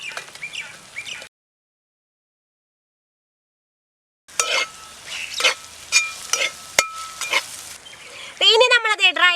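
Fried dates being stirred into a sizzling dry fruits pickle in a pan: crackling sizzle and scraping stirs in bursts, broken by a few seconds of silence, with a brief whistle-like tone near the end.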